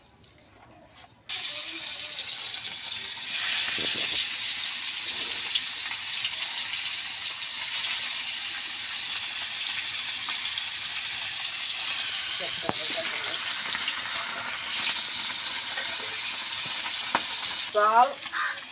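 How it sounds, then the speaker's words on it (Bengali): Tilapia fish frying in oil on a flat pan, a loud, steady sizzle that starts abruptly after a quiet opening and continues throughout, with occasional scrapes from stirring. "আমার মাছ ভাজাটা হয়ে গেছে"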